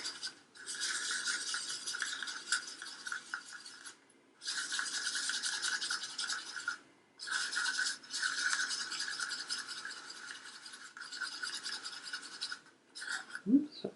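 Fragrance oil is mixed into pumpkin spice soap batter in several steady, scratchy whirring bursts lasting a few seconds each, separated by short pauses and heard up close.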